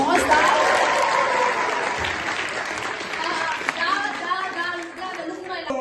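Applause from a theatre audience inside a prison hall after a scene by an amateur troupe, dense steady clapping filling the room with a few children's and adults' voices mixed in.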